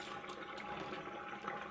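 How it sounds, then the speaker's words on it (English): Water drained out of a container used to clean brass cartridge cases for reloading, a faint, steady trickle and splash of liquid lasting under two seconds, with no voices. "We let out that water."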